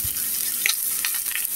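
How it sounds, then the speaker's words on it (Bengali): Onion, carrot and green chili frying in a pan, a steady close sizzle with a few brief stirring clicks and scrapes, no talking. "পেঁয়াজের সঙ্গে একটু ভেজে নিব"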